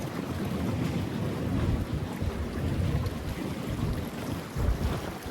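Strong sea wind roaring steadily across the microphone at the shore, a dense, blustery rumble with waves mixed in and no voices.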